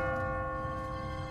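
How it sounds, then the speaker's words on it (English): An automatic church bell in The Walking Dead video game rings out with a sustained metallic tone and lingering overtones, steady and moderately loud, with no voices over it. "What kind of church bell goes off at 20 past the hour?"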